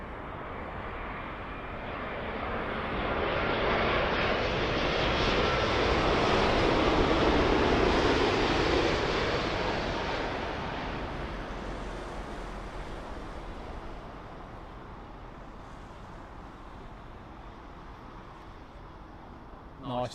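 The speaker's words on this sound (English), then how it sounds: "Nice Vietnamese Airlines 787-9 in from Ho Chi Minh" Vietnam Airlines Boeing 787-9 jet arriving from Ho Chi Minh City at Heathrow, a broad roaring rush that builds, peaks loud mid-pass and fades away, with occasional talking faintly present.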